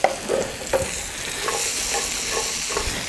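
Baby bella mushrooms and onions sizzle steadily on a hot grill pan, with a few scraping and stirring knocks against the pan over the continuous frying hiss.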